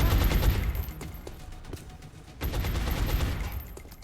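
Sustained suppressive automatic gunfire in XCOM Long War, a rapid rattling stream of shots in two long bursts with a short lull between, fairly loud and steady with no talking.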